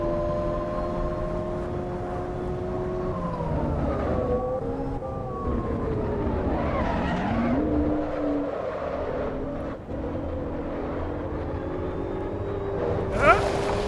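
A synthetic race car engine in the racing game Assetto Corsa Evo drones and whines, pitch rising and falling with shifts, steady and loud throughout.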